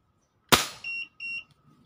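A single sharp crack from a Crosman 1377 air pistol firing a 0.68 g Luman pellet, close and loud, followed by two short electronic beeps from a chronograph.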